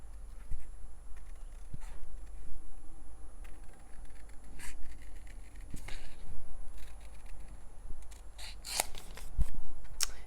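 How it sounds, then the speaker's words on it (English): Scissors snipping through paper cards, with quiet irregular cuts and paper rustling as the sheet is turned, close and fairly soft, with no talking. "I'm keeping my scissors pretty much in the same spot, and I'm just twisting, turning my paper"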